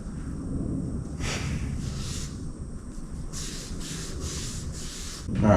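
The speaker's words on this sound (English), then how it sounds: "Got a little piece of Scotch-Brite to clean up this yoke" Scotch-Brite pad scrubbing a metal yoke in a garage, heard as repeated short rasping strokes, close and fairly quiet, in a steady rhythm.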